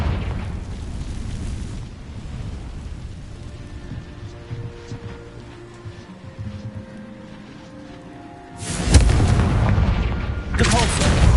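A Confringo blasting spell from Hogwarts Legacy sounds as heavy, booming explosions over steady battle noise, with two sharp, louder blasts near the end.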